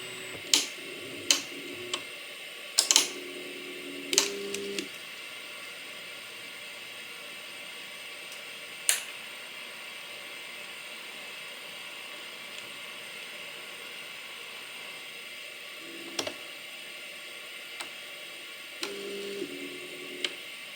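A eufyMake E1 home UV printer runs its periodic print head cleaning cycle, a steady high mechanical hiss and whir with scattered sharp ticks and clicks, plus short bursts of motor activity near the beginning and again toward the end.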